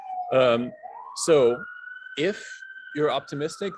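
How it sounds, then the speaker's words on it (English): An emergency vehicle siren wails in the background as a single rising and then steady tone, sounding under and between a man's ongoing speech. "I apologize for the siren here."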